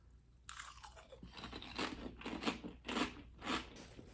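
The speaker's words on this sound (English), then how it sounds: "I like the crunch on this a lot." Kettle cooked chips crunch loudly between close-up bites, a series of sharp crackling chews in an uneven rhythm over a quiet background.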